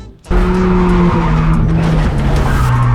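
Mazda RX7 FC race car built for SCCA ITS class racing, engine roaring close and loud with sustained tire squeal and skidding following a sudden onset.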